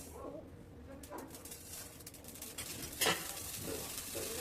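Rajgira (amaranth) seeds puff in a hot wok with dry crackling, sizzling pops and stirring scrapes. The sound is fairly faint, and a voice is heard softly underneath.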